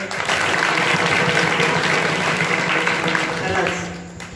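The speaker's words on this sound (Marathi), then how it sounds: "एकदा टाळ्या होऊन जाऊ द्या" An audience at a Marathi kirtan breaks into loud, dense applause that holds steady for several seconds, then fades away, with voices mixed in.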